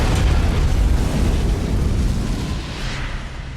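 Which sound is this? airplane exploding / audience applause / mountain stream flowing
airplane exploding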